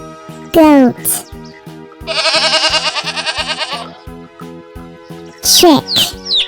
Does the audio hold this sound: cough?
no